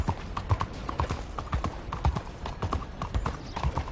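Horse hooves clip-clop in a quick, steady trot rhythm throughout, close and clear, in Red Dead Redemption 2.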